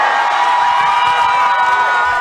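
A crowd of about a hundred supporters gives an ovation and shouts for freedom at a political figure's first public appearance after more than a year in hiding, a dense, steady roar of cheering and yelling throughout.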